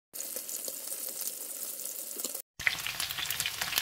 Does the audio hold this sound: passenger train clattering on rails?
no